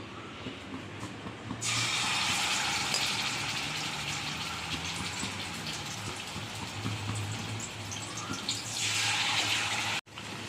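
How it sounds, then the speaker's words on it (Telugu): Chicken leg pieces drop into hot oil in a kadai at about 1.5 s, setting off a loud, steady sizzle and crackle that continues close up, with a brief clatter near the end. "ఆయిల్ అయితే కొంచెం ఆయిల్ అయితే వేడైంది, ఆయిల్లో వేద్దాము."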